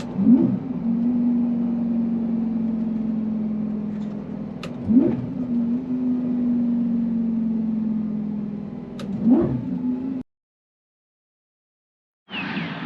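First-generation Lamborghini Gallardo engine blipping on downshifts, a steady loud drone broken by three sharp revving flares, then a sudden silence before the engine sound cuts back in.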